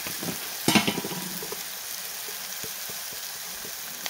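Tomato masala with chili powder fries in a pan, sizzling close and steady, with a burst of stirring and scraping early on and softer spatula taps after.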